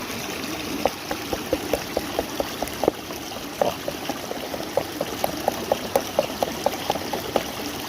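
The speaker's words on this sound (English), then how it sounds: "So I'm going to rinse that out a little better right into this pan." Water pours and trickles steadily as material is rinsed from a small pocket gold sluice into a prospecting pan, with a run of soft, regular splashes and drips heard close up.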